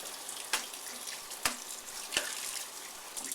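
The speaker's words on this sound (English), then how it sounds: "you give it a good thorough rinse with hot water" Hot tap water runs steadily as nuno felt is rinsed under it, a continuous hiss broken by three sharp splashing surges as the wet felt is moved and squeezed.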